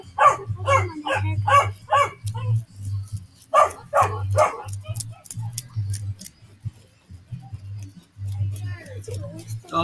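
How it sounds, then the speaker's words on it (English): A dog barks repeatedly in quick bursts at an outdoor wilderness camp, fairly close and loud, over a steady low rhythmic hum, with a few more barks later. "Dog barking and everything."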